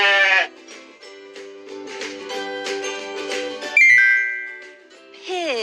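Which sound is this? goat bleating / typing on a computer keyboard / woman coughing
goat bleating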